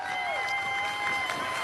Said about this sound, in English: Some cheering for the president.